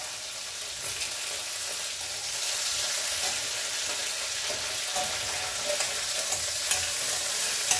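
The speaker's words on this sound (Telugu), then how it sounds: "ఇవి వేగిపోయినాయి." Ingredients frying in a pan, giving a steady close hiss of sizzling oil with faint scrapes of stirring throughout and no talk.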